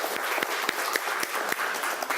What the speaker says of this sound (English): huge round of applause for Dave in doing that.